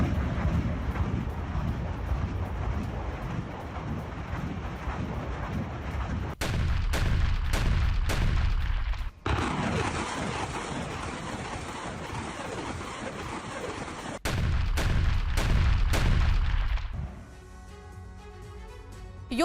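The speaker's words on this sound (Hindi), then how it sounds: "BM-21 MLRS से ने बरसाए रॉकेट।" BM-21 MLRS rocket artillery fires in war along the Dnipro: loud, rushing roars of launches fill the recording in several abruptly cut segments, ending in a quieter, hissing stretch.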